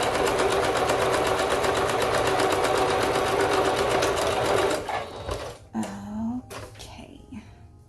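A sewing machine zigzag stitches and back stitches fabric for a bow wrap, running continuously and loudly before stopping, then a few softer handling sounds and a brief voice follow.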